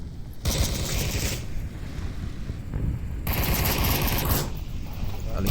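Bursts of rapid automatic gunfire in the Onward VR shooter game, loud dense volleys that stop and restart, with a competitive match commentator talking over the shots.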